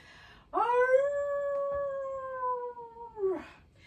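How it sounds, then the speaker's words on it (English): A werewolf howl sound effect: one long, clear, sustained howl that holds steady before falling off, close and loud against a quiet background. "And then one more howling werewolf."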